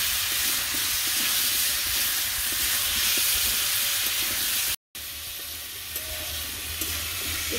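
Food stirred as it fries in a pan makes a loud, continuous sizzle with faint scraping. The sound cuts out for a moment near the middle, then the frying carries on alone.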